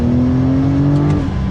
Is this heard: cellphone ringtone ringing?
no